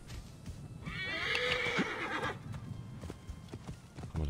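Hooves clip-clop at a steady trot while a horse whinnies loudly partway through, over a low background rumble, in Assassin's Creed Origins.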